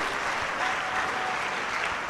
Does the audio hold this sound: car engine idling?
no